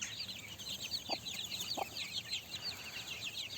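Hens cluck in a steady, fairly close stream of short calls, with a couple of brief low knocks partway through and no talk.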